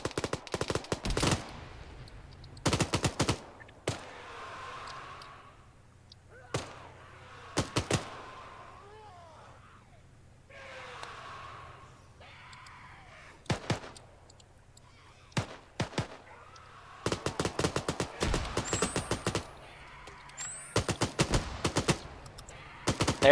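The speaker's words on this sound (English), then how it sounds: "So I'm hearing gunfire over here." Gunfire in the military shooter video game Arma 3 comes as scattered bursts of sharp automatic shots. Short volleys alternate with quieter gaps, some nearby and loud, others more distant, over a low background hum.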